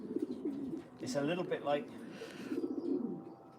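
A racing pigeon coos nearby in low, rolling, repeated calls, while someone talks over it at moderate volume.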